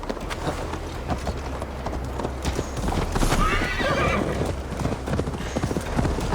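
Horse hooves clip-clopping at a gallop in Assassin's Creed Valhalla, steady rhythmic hoofbeats close by with a horse whinny partway through.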